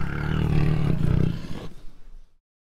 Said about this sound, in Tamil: குழந்தைகளா, புலி எப்படி உருமோ?